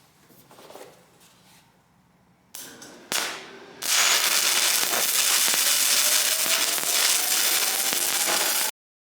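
Miller Multimatic 220 welder arcing, a loud continuous crackling hiss lasting several seconds after a few short bursts and clicks, then cutting off abruptly.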